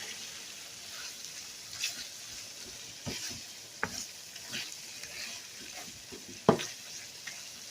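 A cook stirs and mixes ingredients in a cooking pot over sizzling heat, with irregular scraping strokes and soft clanks spread through a steady frying hiss, plus one sharper knock near the end.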